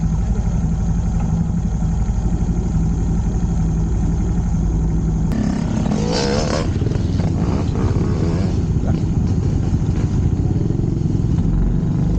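A Honda CT125 motorcycle idles with a steady low, throbbing rumble for about five seconds, then a sharp click is followed by rustling and handling noise over the continuing engine sound.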